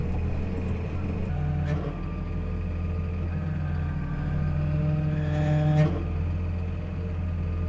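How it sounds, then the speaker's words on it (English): A tractor engine runs with a steady, low drone throughout, a faint whine rising over it from a tractor low on hydraulic oil, and a couple of brief clanks, close and constant. "Sounds like we could do with some hydraulic oil in this tractor."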